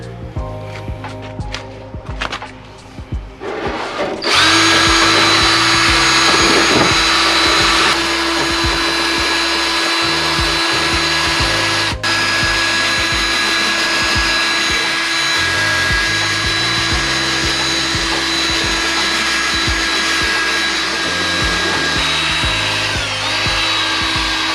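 A drill-driven bristle brush whirs against a mud-covered fender, a loud, steady high-pitched spinning whine with scrubbing noise that starts after a few seconds of quieter handling and runs on continuously.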